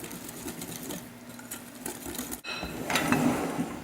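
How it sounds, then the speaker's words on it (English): A whisk stirs flour, baking powder and salt in a bowl, giving a steady, rapid scraping rattle close up that grows a little louder near the end, with no talking. "Baking powder and the salt. And again, whisk it until it's pretty well mixed."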